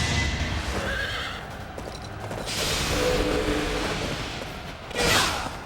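A horse whinnies and its hooves clip-clop steadily in Fire Emblem: Three Houses, with whooshing game effects and a louder swish near the end, with no talking.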